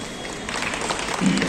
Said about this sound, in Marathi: सगळ्यांसाठी जोरदार टाळ्या